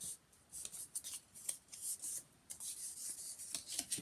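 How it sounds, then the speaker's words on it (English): Paper being folded and creased by hand while making an autumn memory book, giving a soft, close, continuous rubbing and rasping with repeated short swipes of a burnishing crease, quiet and with no voices. "Give it a crease and a burnish."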